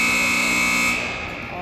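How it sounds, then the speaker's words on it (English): A loud, steady ice hockey period-end buzzer sounds at a Nepean vs 67s game, holding a sustained tone for about a second before cutting off into the lingering rink ambience, with a voice over it. "and that's the buzzer"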